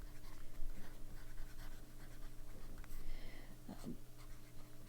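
A Lamy Safari fountain pen filled with Diamine Shimmertastic Dragon's Blood ink writes on paper, producing faint, soft scratching strokes close by over a low steady hum.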